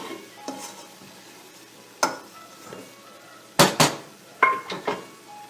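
Spinach and chicken kofta scooped out of a cooking pot, with several sharp metal spoon scrapes and clanks against the pot, close and irregular, with no voices.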